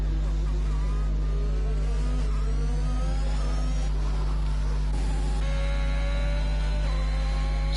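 Simulated race cars pass one another through the chicanes at Monza in a sim racing game, with engines revving and shifting pitch steadily throughout. A constant mains hum sits underneath and faint commentary is heard.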